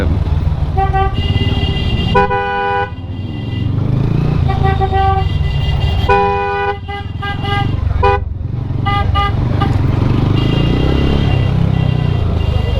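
A group of twenty or so motorbikes passes along a rough village road in Sreemangal, with repeated horn toots over a steady close engine drone, and a voice is heard briefly in the mix.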